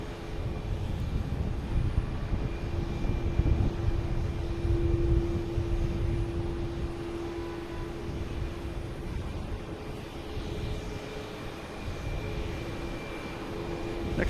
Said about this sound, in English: Oh, we got Air Canada taking off.